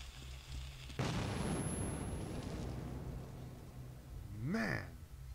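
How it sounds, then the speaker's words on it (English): A grenade blast in the video game Metro bursts out suddenly and loudly, then rumbles and slowly fades over several seconds, with a short vocal cry rising near the end. "Grenade!"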